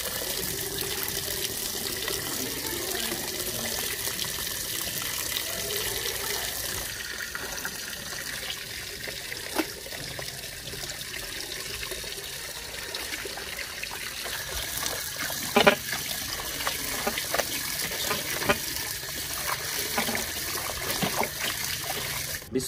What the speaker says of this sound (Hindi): तो सबसे पहले कबाब को हम एक दफ़ा अच्छे तरीके से धो लेंगे।